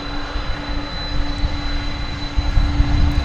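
A FedEx MD-10 jet at DFW Airport at night gives a steady, moderately loud engine rumble with a constant hum. It runs the whole time and no one talks over it.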